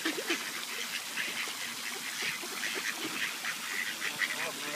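A group of ducks quacks and honks continuously while being fed by hand, a busy chorus of overlapping calls at close to moderate distance, with no clear speech.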